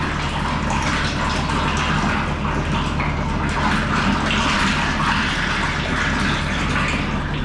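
Liquid pours steadily and loudly into a crop sprayer tank used for spraying corn, a constant rushing flow close by with a brief voice barely noticeable beneath it.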